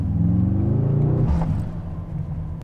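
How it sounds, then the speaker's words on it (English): Mercedes-AMG GT63 S E Performance V8 engine heard from the cabin while driving at night, a deep rumble rising in pitch as it accelerates, then easing to a lower steady drone. "there is no more electric power, so we have to use the V8 motor"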